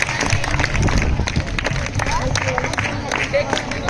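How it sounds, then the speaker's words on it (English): Clapping from a crowd mixed with a busy background murmur of voices, steady throughout. "Let's give her a big round of applause."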